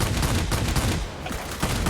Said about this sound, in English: Now, if only my guns would hit.